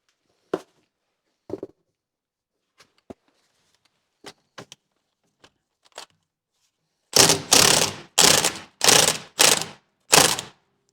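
A hand ratchet clicks in six quick, loud bursts near the end while axles are pulled off a Corvair engine, following a few sparse clanks and taps of tools on metal.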